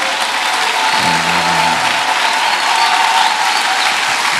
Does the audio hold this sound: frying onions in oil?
no